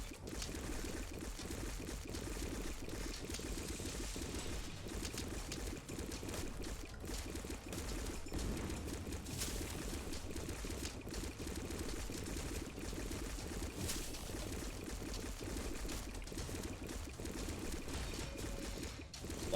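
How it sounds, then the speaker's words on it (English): Bubbling of the Lifesteal potion in the game God of Weapons, a steady, continuous watery churn that runs loud and unbroken for the whole stretch with no talking. "Lifesteal is making so much bubbling noise,"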